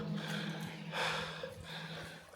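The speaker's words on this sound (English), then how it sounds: "Am I heavy breathing?" Heavy breathing from a person climbing inside an abandoned canal tunnel, a few loud close gasps and breaths heard alone in the echoing space.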